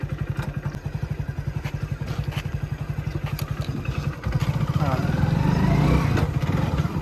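A Hero Splendor motorcycle engine idles with a rapid, even putter, then clunks into first gear and the revs rise. The sound is close and loud, with a voice speaking over it.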